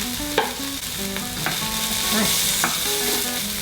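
Garlic sizzles in a hot pan for Impossible Beef tacos, a constant bright hiss broken by spoon clatter and scraping knocks; a voice briefly says one word.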